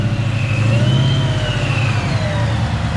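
A Coyote-swapped Fox-body Mustang with a Whipple supercharger, full 3-inch exhaust and 1 7/8 headers, running on E85, pulls hard under acceleration, its loud, steady engine roar rising in pitch with supercharger whine, close and continuous with no talk.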